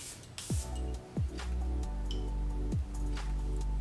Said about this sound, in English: So without further ado, let's go ahead and spray this.